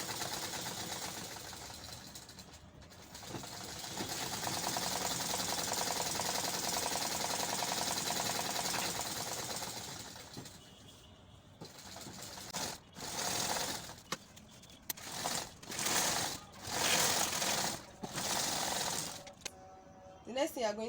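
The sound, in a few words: sewing machine stitching fabric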